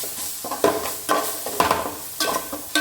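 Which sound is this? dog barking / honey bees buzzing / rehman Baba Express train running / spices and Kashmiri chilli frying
spices and Kashmiri chilli frying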